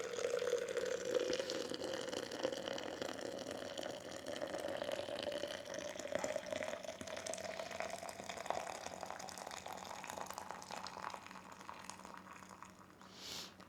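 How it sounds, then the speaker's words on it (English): Water is poured into a cup for coffee, a soft steady trickle with a rising pitch as the vessel fills, faint and close, with no talking. "gonna pour my water in"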